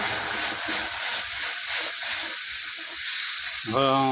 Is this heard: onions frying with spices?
yes